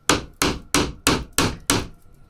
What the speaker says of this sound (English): Just get a hammer and keep turning it.